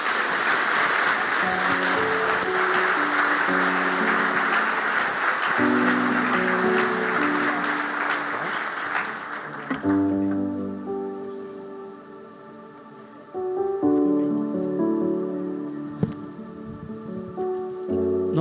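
A congregation at a state church convention bursts into loud, dense applause for about ten seconds while music plays underneath, then the clapping fades and organ-like music continues on its own.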